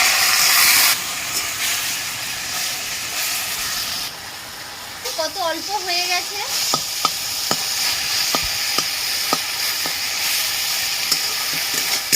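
Jute leaves frying with green chillies, turmeric and salt, a loud hiss at the start settling into steady sizzling with a spatula scraping and tapping the pan at intervals.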